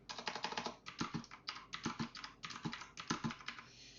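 Quick bursts of keystrokes on a computer keyboard while entering code, close and fairly quiet, with short pauses between clusters and no talk.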